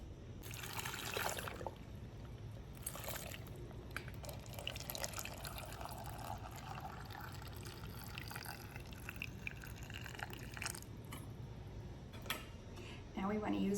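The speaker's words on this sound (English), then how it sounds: "and pour it in over our pickles." Pickling brine poured from a container into a jar packed with dill pickles, a steady close trickle and splash of liquid filling the jar for several seconds, with faint drips near the end.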